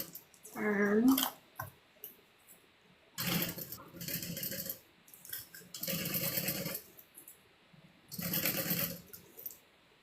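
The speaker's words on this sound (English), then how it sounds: "We're going to stitch a little, turn, stitch a little, turn." A sewing machine stitches a bag in short bursts of fast mechanical whirring, about five runs separated by pauses as the fabric is turned, with a brief faint voice early on.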